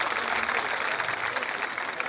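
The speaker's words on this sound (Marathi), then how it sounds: "जोरदार टाळ्या एकदा" Sustained applause from an audience at a public welcome ceremony in Nehru Nagar, with dense clapping holding steady and fairly loud from start to finish.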